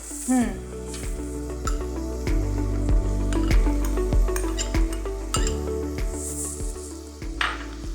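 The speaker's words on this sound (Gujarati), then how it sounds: "હવે આપણે વેજીટેબલ્સ નાખી દઈએ. તો એમાં આપણે પેલા કેબેજ લાંબુ લાંબુ સુધારેલું," Long-sliced cabbage and vegetables sizzle loudly in a hot pan for Schezwan noodles, with a continuous crackling hiss and occasional clinks of stirring over a steady tonal background.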